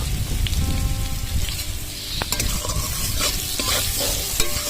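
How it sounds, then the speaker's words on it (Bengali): New potatoes frying with salt and turmeric in a hot pan, a steady dense sizzle with stirring scrapes and small crackles throughout, no voices. "এগুলো নতুন আলু, তাই আগে একটু ভেজে নিচ্ছি।"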